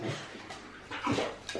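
A puppy whimpers in short, soft bursts indoors, a couple of thin whines close by with little else around.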